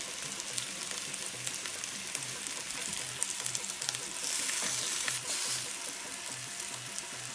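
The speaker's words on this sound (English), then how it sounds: "Sear it until golden color, both the sides." Lamb pieces searing in ghee in a hot pan, giving a close, continuous crackling sizzle with dense popping and a brief louder swell partway through, with no voices.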